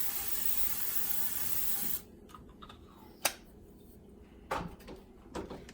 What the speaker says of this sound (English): spray in some olive oil